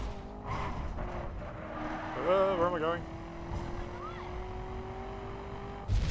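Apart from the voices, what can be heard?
car engine sound effects from video game The Crew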